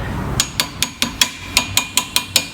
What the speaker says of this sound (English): tap the sprocket over, nip them back up